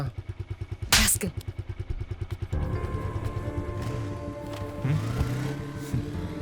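A motorcycle engine idles with a steady, pulsing thump before revving up into a louder, sustained ride, close to the listener.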